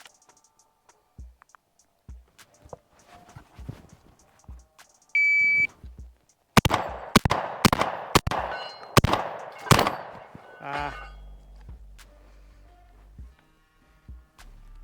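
Stoeger M3K shotgun fired at a steel Texas Star target, a rapid string of about six loud sharp blasts with ringing metal hits, preceded by a short beep and quieter handling sounds.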